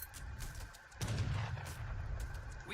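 Cannons fire in the Age of Empires 3 strategy game, a few muffled booms over quieter battle sounds, with one heavier low thud near the middle, all faint and distant.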